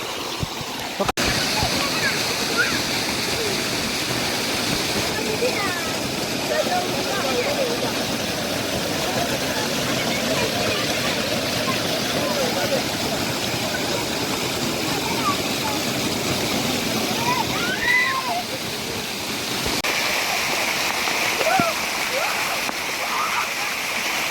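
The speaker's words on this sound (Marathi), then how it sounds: "छान असे धबधबे आहेत करंजवेच्या मागच्याच बाजूला आहेत" Waterfalls near Karanjave make a steady wash of rushing water that lasts the whole time. Voices talk intermittently over it.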